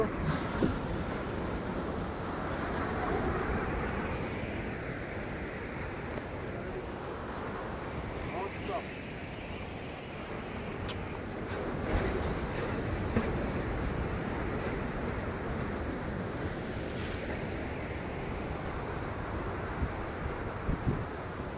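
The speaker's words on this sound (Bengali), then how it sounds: "পুরো পুরো সমুদ্র।" Sea waves roll onto the quiet, secluded Auroville beach, a continuous broad wash of surf mixed with wind buffeting the microphone, with faint voices now and then.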